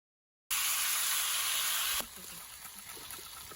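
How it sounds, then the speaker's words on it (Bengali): Marinated chicken pieces hit hot oil in a wok for a Bengali chicken biryani, setting off a loud, bright burst of sizzling that drops after a moment to a steadier, quieter frying hiss. "মাংসগুলো মাখানো রাখা ছিল। এবার আমি দিয়ে দিচ্ছি কড়াইয়ের মধ্যে।"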